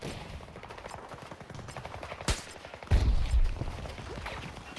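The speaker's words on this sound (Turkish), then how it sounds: "Şuraya mermi atıyorum." Battlefield 2042 gunfire crackles in rapid bursts, with a sharp single crack and heavier blasts in the middle, over a busy game background.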